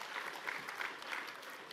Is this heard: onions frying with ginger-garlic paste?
no